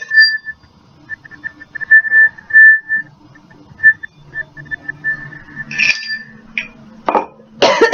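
A windstorm outside a window produces thin, high whistling tones that come and go in short gusts. Faint rattling noises and a few louder bursts come near the end.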